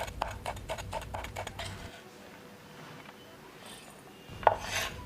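A knife chops garlic on a cutting board for a chilli and herb dressing, a quick run of sharp taps at the start, then quieter scrapes and a final clack near the end.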